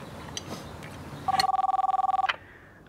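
A telephone rings once in a loud, rapid electronic trill lasting about a second, cutting in clearly over quiet room tone in a Russian comedy film scene.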